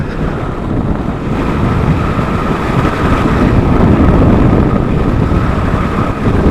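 Steady, loud wind roar buffets the microphone while riding a Kawasaki Vulcan S motorcycle fitted with a Puig windscreen, a continuous broadband rush with no talking.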